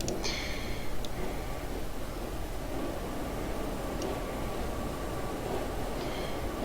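A Class 142 Pacer train runs on the line between Glenfinnan and Fort William, giving a constant low, quiet rumble of rolling wheels with a few faint clicks and squeaks near the start and end.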